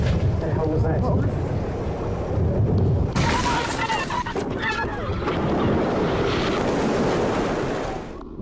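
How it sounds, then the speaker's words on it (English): Water rushing and surging into a small fishing boat at sea, a loud, continuous churning wash with splashing and wind buffeting, growing harsher partway through and staying close throughout. "Water floods the vessel,"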